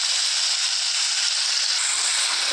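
Whole spices, cumin and garam masala, sizzle in hot oil in a pan, a steady bright hiss that is continuous and fairly close, with no voices over it.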